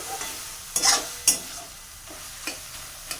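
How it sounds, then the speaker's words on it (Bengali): Vegetables fry in a pan close up, a low steady sizzle punctuated by a few loud scraping stirs of the spatula and quieter strokes, with no talking. "এই যে ভাজা ভাজা প্রায় হয়েই গেছে আর একটুখানি ভাজা হবে"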